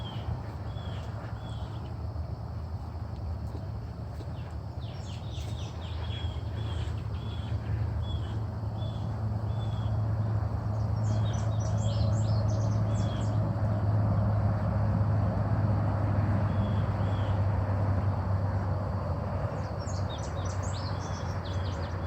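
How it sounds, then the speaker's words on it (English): Birds call intermittently in a swampy bird sanctuary, short chirping bursts rising over a steady low outdoor rumble, fairly faint and distant with no talking. "The birds are pretty loud back here."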